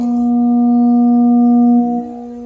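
A steady, low 240 Hz pure tone hums evenly for about two seconds, then drops off slightly at the end.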